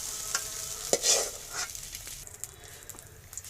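Eggs frying lightly in a wok give a soft, steady sizzle, with a brief louder crackle and spatter near the start that fades back into a quiet hiss.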